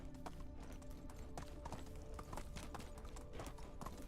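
Horse hooves clip-clop at a steady riding pace in the video game Medieval Dynasty, a continuous rhythmic trot of close, even hoofbeats throughout.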